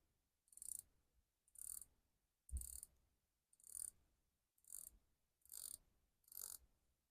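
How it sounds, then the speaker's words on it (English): An Addiesdive AD2045 dive watch's 120-click unidirectional bezel being turned in seven short, evenly spaced bursts of crisp ratcheting clicks, heard close up with no talking. "The bezel is 120 click unidirectional bezel."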